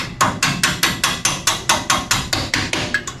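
A hammer drives bolts out of control arms during the teardown of a 1969 Chevelle wagon, about fourteen loud, sharp metallic strikes in a steady, even rhythm with no talk.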